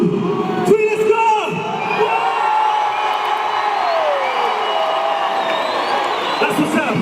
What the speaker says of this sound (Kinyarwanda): Ndagira tuvuze induru dukombe ibyishimo icyarimwe tumuhe impundu tumushimire.